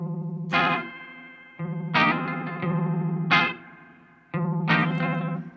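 Electric guitar run through a Sabbadius 1968 Uni-Vibe pedal with the foot pedal fully down, four loud strummed chords swirling with a fast, pulsing chorus-like warble, played alone.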